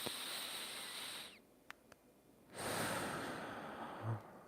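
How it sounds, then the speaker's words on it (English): Slow, deep breaths in and out during an at-home morning mobility and core routine, a long airy inhale giving way to a pause and then a broad exhale, close and alone without talk. "breathing in, breathing out"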